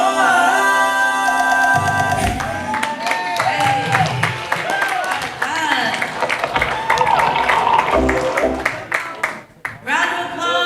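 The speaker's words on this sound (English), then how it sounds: "Round of applause to all of our family acts tonight." An audience at a Samoan family reunion fiafia night claps and cheers for family acts, with the applause mixed with music and a voice over a loudspeaker.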